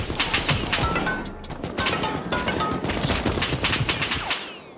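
Rapid video game gunfire rattles in dense bursts of shots, loud and close, with scattered sharper cracks and impacts running through the whole stretch and no talk.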